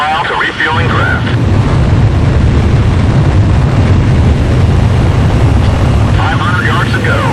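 A fighter jet in the Ace Combat Zero video game roars steadily and loudly throughout, a dense continuous engine and wind rush with faint radio-like chatter at the start and end.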